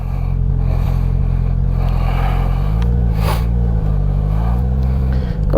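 A Polaris Slingshot's engine idles loudly close by, then pulls away with a low, wavering rumble and rising revs on a cold winter ride.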